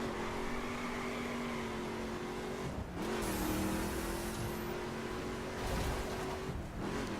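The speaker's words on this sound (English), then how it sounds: "once you touch the NOS, the nitro, that it does get like quite some extra oomph" A car engine in The Crew racing game drones steadily at high revs, briefly dipping twice as gears shift, then climbing again under nitro boost, loud and continuous with no voices.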